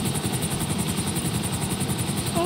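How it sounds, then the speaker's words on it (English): A helicopter in Grand Theft Auto V thuds with a fast, steady rotor chop and engine whine, loud and continuous, with no voices over it. "All aboard the Love Chopper."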